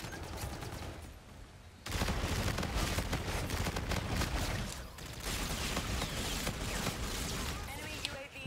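Call of Duty Infinite Warfare gunfire crackles in sustained bursts, dense and fairly close, filling most of the stretch with rapid shots that dip briefly before resuming, with a voice talking over it.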